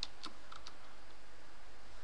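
Keys tapped on a computer keyboard while a ping command is typed into the Windows command prompt, a few quiet clicks early on, then faint room hiss with little else.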